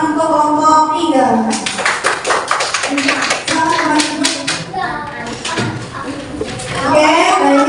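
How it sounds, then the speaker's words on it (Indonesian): A classroom of students claps for a group, with a loud, uneven spatter of hand claps that starts strong and thins out. Children's voices and chatter mix in underneath. "Beri aplaus atau tepuk tangan untuk kelompok 3."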